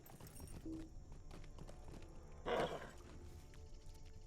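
Horse hooves clip-clopping in the video game Lord of the Rings Online, faint and rhythmic under a low background hum, with a brief louder burst of sound midway through.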